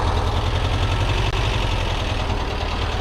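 Porsche 914 engine with carburetors, reportedly running on only three cylinders, idling just after starting, a steady close rumble with an uneven pulsing beat, no voices.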